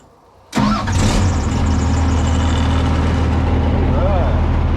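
After a short quiet stretch, a piece of equipment's engine cranks and catches abruptly, then settles into a loud, steady idle with a low rumble that continues to the end.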